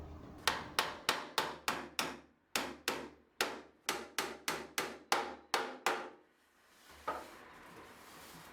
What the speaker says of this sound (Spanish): Clavo toda la periferia del fondo sin olvidarme de los extremos sobre los lados cortos del baúl.